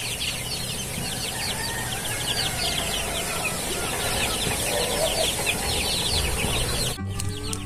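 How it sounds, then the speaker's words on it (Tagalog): Broiler chickens and chicks on a small farm cluck and peep continuously, a busy chorus of repeated chirps and clucks at close range with no talk. "Yung sisiw ng kapitbahay, sunod na sunod sa akin."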